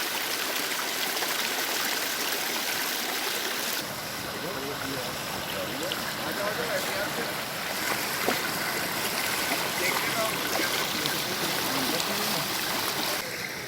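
A stream of rainwater rushing down from the mountains near Islamabad after heavy morning rain roars as a loud, dense, unbroken torrent, close by, with a voice faintly audible beneath it.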